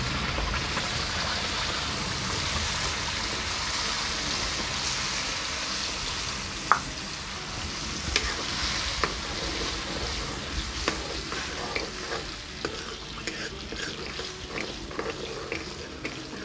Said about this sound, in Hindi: थोड़ा सा इसको अच्छे से हिला के मिक्स करेंगे फ्रेंड्स। चलाते हुए इसको अच्छे से पकाएंगे